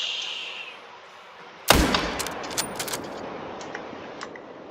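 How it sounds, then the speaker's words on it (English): In a hunting video game, a single sharp gunshot aimed at a buck cracks out after a quiet stretch and is followed by a few fainter clicks and ticks as the sound decays. "Let me shoot at this buck once."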